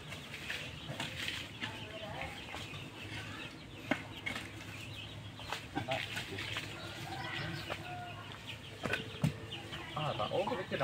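Chickens cluck faintly in the background at an outdoor rural site, scattered clucks and rustling mixed with people talking nearby.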